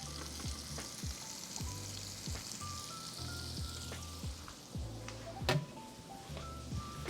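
Butter and minced garlic sizzling in a frying pan for smothered pork chops, a close, steady crackling fry with scattered pops and occasional stirring clinks from a utensil.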